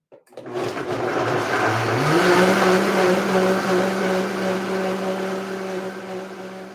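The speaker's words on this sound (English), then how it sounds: "so I'm going to blend that up, and then we're getting right to questions" A blender chops and purees cucumber. The motor kicks on, climbs in pitch over the first couple of seconds, then settles into a loud, steady whirring drone with no talking.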